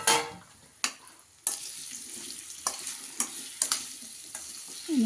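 Raw mango pieces being stirred into pickle masala, a series of sharp scraping strokes against the pan at uneven intervals over quiet background, close and clear.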